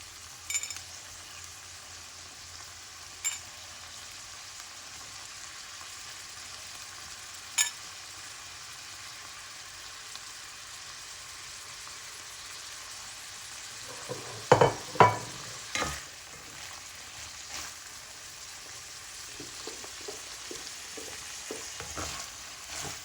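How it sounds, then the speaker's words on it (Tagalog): Sardines and foraged fern fronds (pako) stir-fry in a pan in Kent, England, giving a faint steady sizzle with a few sharp clatters of stirring near the middle and lighter scraping toward the end. "Ayan po, okay na po yung ano natin, sardinas. Ilagay po natin itong gulay na pako."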